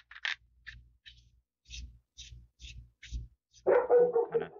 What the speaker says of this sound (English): My dog is losing her mind over something.